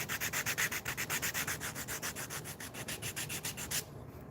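Sandpaper rubbed by hand over a carved wooden piece, close and rhythmic with about two dozen quick even strokes, then stopping into quiet near the end.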